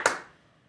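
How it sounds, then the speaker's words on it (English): A single sharp hand clap, close and fairly loud, with a short decaying tail and no voices, as a storyteller acts out a character clapping during a tabletop role-playing session. "he claps again."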